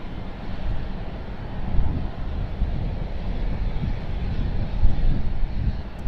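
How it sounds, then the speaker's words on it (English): Strong wind buffeting the microphone at an airport plane-spotting spot at Raleigh-Durham, a continuous loud roaring rush with gusts rising and falling throughout. "And that wind is picking up. It is very strong at my back."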